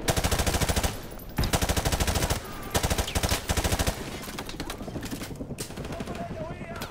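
Loud, rapid machine gun fire from Call of Duty 4: Modern Warfare Remastered, coming in sustained bursts with short gaps and heavy gunfire and battle noise underneath, with a player's voice heard over it.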